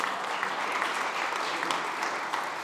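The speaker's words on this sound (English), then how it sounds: "And give her a round of applause" A conference audience at SXSW 2025 applauds the CEO of Feeding America during a Food is Medicine session, a continuous even roar of clapping hands at steady loudness throughout.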